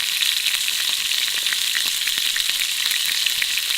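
Trimmed meat scraps sizzle in a pan over a base camp fire, a continuous loud hiss of frying fat punctuated by frequent small pops and crackles, with no talking.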